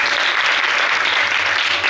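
A crowd applauds at a journalists' foundation honours ceremony in Kolhapur, dense continuous clapping that is loud and even throughout, with no voices over it.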